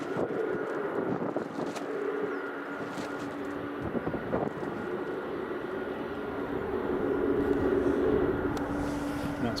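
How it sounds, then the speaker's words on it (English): An Aegean Airbus A320neo pushing back at Edinburgh Airport gives a sustained engine hum with a steady whine on top, swelling slightly toward the end, with brief knocks and wind buffeting the microphone. "The Aegean A320 Neo is just about to push back as well."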